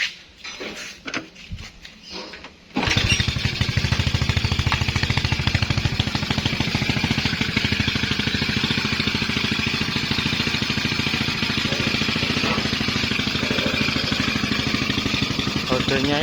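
A green Honda C70 motorcycle starts up after a short stretch of handling noise and keeps running with a loud, steady, close engine chug through to the end.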